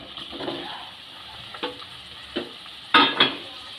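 Boiled cauliflower pieces fried and stirred with spices in a pan for cauliflower chops: a steady low sizzle with several distinct scraping stir strokes, the loudest pair near the end, close up and without speech.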